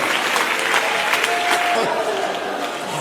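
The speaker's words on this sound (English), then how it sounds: "Clap your hands." A church congregation at an Apostolic sermon claps together, a loud dense burst of clapping mixed with crowd noise and faint voices that swells and then eases slightly toward the end.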